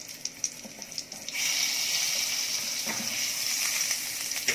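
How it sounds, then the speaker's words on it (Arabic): Butter melting in a pan, quiet taps at first, then a steady hissing sizzle rising abruptly and holding close and even until the end. "هندوب الزبدة زي ما احنا شايفين بالطريقة دي، وهنحط بعد ما تسيح الزبدة"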